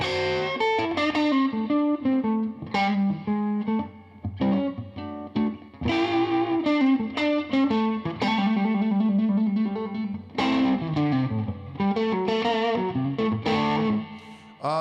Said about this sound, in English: I've got that reverb kind of cranked right now, Patrick.